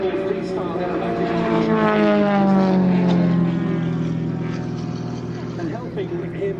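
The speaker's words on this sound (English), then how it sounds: "Mike Williams, who's controlling the model, is one of the best large-scale model pilots in the UK" Large-scale radio-controlled model aircraft flying aerobatics at RAF Mildenhall, its engine droning with a rising then falling pitch as it passes overhead, continuous and fairly loud against open-air background.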